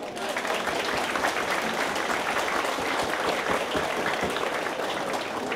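Dense, continuous audience applause at a shanty choir concert, many hands clapping steadily throughout with no break, loud and full-bodied, like a crowd in a hall.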